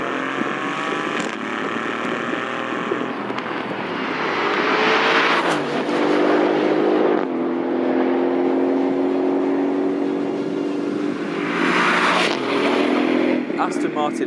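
A 2018 Aston Martin Vantage engine revs hard while driving, rising and falling through gear changes with a loud, steady growl and sharp surges of acceleration, heard from inside the car.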